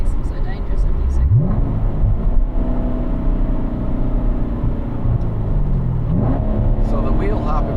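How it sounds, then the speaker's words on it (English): A 2015 Corvette pulls hard in first gear with wheel hop, a loud, close engine rising in pitch twice with a brief fluttering judder, heard from inside the car. "the wheel hop in first gear that we experienced there, that just gave us a little fluttering"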